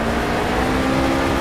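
Race cars in Project CARS roar past with a steady, loud engine drone that holds a sustained tone for the whole short stretch, with no talk over it.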